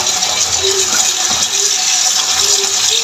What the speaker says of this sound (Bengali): সাথে সাথে ঠান্ডা জল দিয়ে ধুয়ে নিতে হবে যাতে ভিতরে কুকিং হওয়ার প্রসেসটা বন্ধ হয়ে যায়